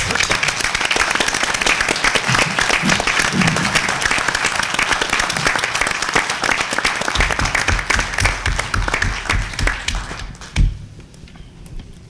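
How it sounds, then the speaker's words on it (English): At a special town meeting in Townsend, Massachusetts, the hall fills with loud sustained applause for a resident, dense clapping that runs about ten seconds before fading, with a few bumps and murmurs at the end. "I'd like to ask Jean to stand and receive a round of applause"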